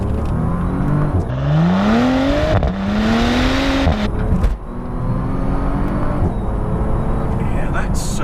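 A 2019 Bentley Continental accelerates hard from a launch, its engine note climbing steadily through rising pitch sweeps over road and wind roar, with a short dip at a gear change before pulling again.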